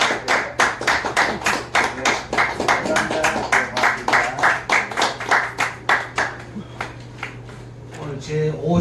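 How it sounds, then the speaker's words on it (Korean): Audience applause at a real-estate investment seminar in Korea, a room of people clapping in a steady, dense burst that carries on for several seconds before tapering off, with a low hum underneath. "박수 한번 치겠습니다."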